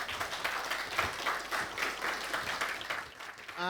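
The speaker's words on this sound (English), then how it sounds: "Round of applause for Michael Shrimpton." Audience applause after a talk by Michael Shrimpton, steady dense clapping from a crowd in a hall that carries on throughout before fading slightly at the end.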